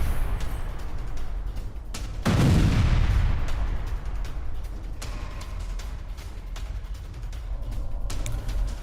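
Combat near a Ukrainian tank being destroyed in Donetsk, a loud boom after two seconds with rumbling decay, followed by scattered sharp shots and crackling in a noisy distant field recording.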